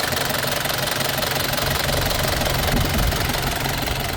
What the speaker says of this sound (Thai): Big M ฝาแดงนะครับคันนี้ เครื่องฝาแดง DD 25